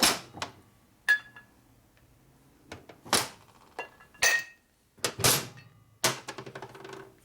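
Hard metallic hammer blows on a socket pressed into a 1967 Harley-Davidson 74ci shovelhead engine part, about seven sharp separate strikes spaced irregularly, loud and close with short ringing decays.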